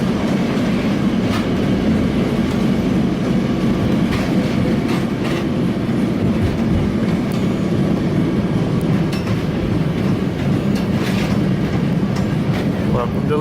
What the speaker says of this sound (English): We're back on the tram.